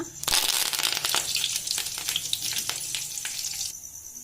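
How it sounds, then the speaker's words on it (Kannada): Cumin seeds and curry leaves sizzling in hot oil, a loud sudden burst of crackling frying that settles into a steady spattering sizzle, close up. "ಅಲ್ಲಿ ಸ್ವಲ್ಪ ಜೀರಿಗೆ ಹಾಕೋಣ ಆಮೇಲೆ ಕರಿಬೇವು ಹಾಕೋಣ"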